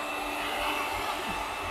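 A Yeedi K650 robot vacuum cleaner runs indoors, a steady whirring motor hum with a broad airy hiss, continuous, close by and moderately loud.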